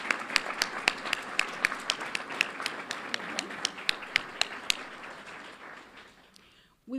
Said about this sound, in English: Let's give them a round of applause for their dedication to the Fort Worth ISD community.